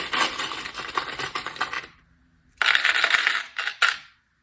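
Small metal charms, coins and keys are stirred and shaken together, a dense jangling clatter for about two seconds, a brief pause, then another burst of rattling close by, with no talk.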